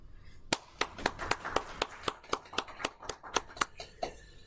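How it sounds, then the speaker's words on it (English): A small meetup audience at a data science lightning talk event claps for the organizers: a sparse, quiet run of separate sharp hand claps in an uneven rhythm, with no voices. "Just a round of applause."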